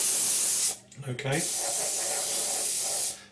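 An airbrush lays a light first coat of paint on a Revell 1/72 Transall model kit. The spraying is a loud, steady hiss, broken briefly by a short spoken word before it resumes.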